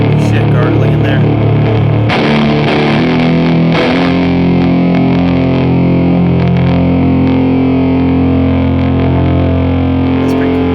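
A Midnight Ritual fuzz pedal pushes an electric guitar into a thick, gargling distortion through an amp, with sustained buzzy notes that are loud and close and settle into a long, ringing held tone.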